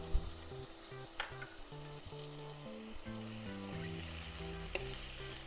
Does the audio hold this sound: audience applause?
no